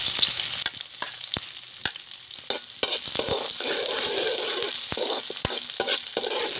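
Ginger and onion sauté in a hot pan, a steady close sizzle broken by sharp clacks and scrapes of a utensil against the metal, for chicken tinola, with no voices.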